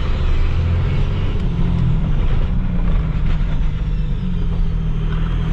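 A 12-valve diesel truck engine with its exhaust brake engaged gives a loud, steady, deep rumbling drone from close by, running continuously without speech.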